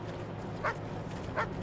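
A dog in Wasteland 3 gives two short, moderately quiet barks about three-quarters of a second apart over a steady low ambient game hum.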